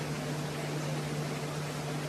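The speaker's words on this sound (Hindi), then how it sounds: "कूलर भी चल रहा है ना, तो कूलर की भी झरझर आएगी, ऊपर पंखा चल रहा है" An air cooler and a ceiling fan run indoors, giving a steady, even whoosh of airflow with a faint constant hum, unbroken and fairly quiet throughout.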